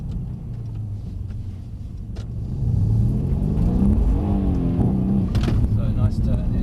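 Mercedes-Benz C63 S engine on a track driving course, a deep rumbling exhaust that swells into a louder rising growl as the car accelerates, heard from inside the car with a voice talking over it.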